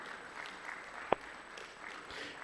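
Quiet, distant applause for adjudicators and coaches at an East African university debate championship at Makerere University, light steady clapping with one sharp knock midway.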